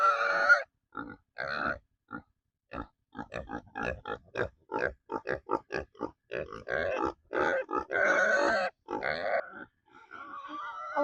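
Pigs near their small A-frame sleeping hut grunt and snort close to the microphone in rapid, irregular bursts, with some longer squealing grunts and no talk between them.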